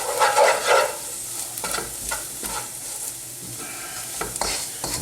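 Onions and curry powder fry for a chicken madras while a utensil stirs them, giving a loud initial burst of sizzle followed by a steady crackle with occasional scrapes against the pan.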